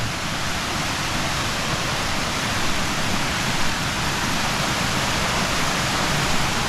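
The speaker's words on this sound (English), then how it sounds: "This is a beautiful river." A river in the mountains of Sapa, near Y Linh Ho village, rushes in a dense, steady broadband wash of flowing water, loud and unbroken throughout.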